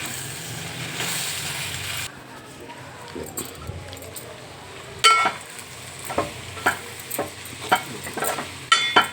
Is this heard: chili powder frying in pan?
yes